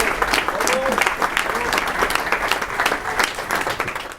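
An audience at the launch of the Cercle Audace gives loud, sustained applause for someone, with a voice speaking over the clapping.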